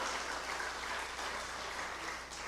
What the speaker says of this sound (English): let us give a round of applause again for MP for Naparima, Rodney Charles.